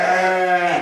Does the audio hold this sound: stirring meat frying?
no